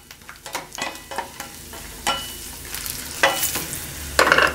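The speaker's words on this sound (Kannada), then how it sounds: "ಕಡಲೆಬೇಳೆ ಫ್ರೈ ಆಗಬೇಕು ಚೆನ್ನಾಗೆ" Peanuts and chana dal with dried red chillies frying in a pan, close rattling scrapes and clicks of a spoon stirring in uneven bursts over a low sizzle, without any talk.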